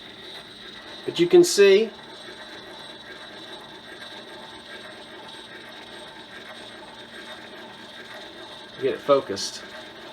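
A cylinder phonograph mechanism runs empty at 4-minute-cylinder speed with the stylus floating, making a faint, steady mechanical whir with light ticking. Brief bursts of speech come near the start and end.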